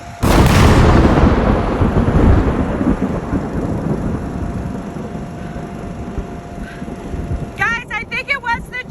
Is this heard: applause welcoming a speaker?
no